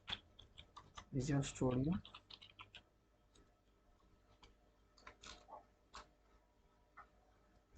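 Quick bursts of keystrokes tap on a laptop keyboard, close and soft, and someone speaks briefly over them.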